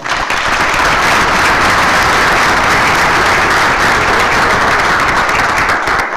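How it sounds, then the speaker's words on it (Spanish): A large audience at a book presentation in Tenancingo breaks into loud, sustained applause, a dense, even wash of clapping that fills the whole stretch without letting up. "para quien pido un caluroso aplauso"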